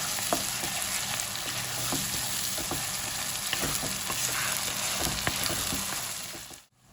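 Garlic paste sizzles steadily in a pan for palak paneer, a constant close frying hiss broken by soft scrapes and clicks of a stirring spoon, with no talking.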